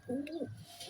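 A tota-shaped male pigeon coos once, a soft rounded call rising and falling close by, then fading into quiet background.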